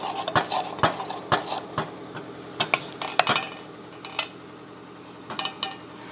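Utensil clinking and scraping against a bowl while batter for instant rava dhokla is stirred in one direction, with repeated sharp metallic taps at an irregular rhythm, close and moderately loud.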